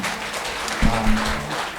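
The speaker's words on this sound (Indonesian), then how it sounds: "Tepuk tangan sekali lagi" An audience at a traditional cultural performance in a gallery claps in a brief, fairly close burst, with a low hum and a faint voice underneath.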